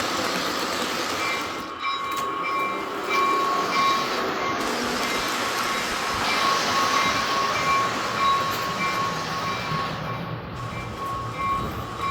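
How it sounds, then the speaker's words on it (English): A model train fitted with onboard sound rolls out of a tunnel on a Christmas train layout, giving a steady rumble with rail clatter and a brief horn-like tone, heard close up and alone with no talking. "I have acquired a few new trains, like this one coming out of that tunnel."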